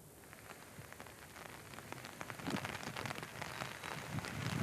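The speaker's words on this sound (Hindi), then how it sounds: "आज मौसम में एक बार फिर से परिवर्तन हुआ है और अब बारिश जो है वो शुरू हुई है" Rain patters down over the grain market in Karnal, Haryana, a soft, continuous hiss of drops that grows slightly heavier toward the end, with no voices.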